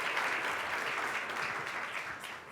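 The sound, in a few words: audience applause for the lecturer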